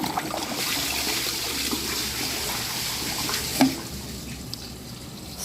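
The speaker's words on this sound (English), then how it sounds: "let's see if it can flush this cardboard one last time" A Glacier Bay toilet flushes a piece of cardboard, giving a steady rushing, trickling water sound throughout with a small knock midway, then gradually easing off.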